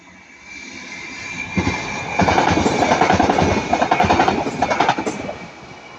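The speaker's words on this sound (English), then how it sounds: "So here we have a Northern Class 331 going to Crewe." Northern Class 331 train passing at speed, a rising roar that swells to a loud rushing rumble with rapid clickety-clack wheel beats, heard close with no talk.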